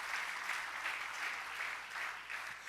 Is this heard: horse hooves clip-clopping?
no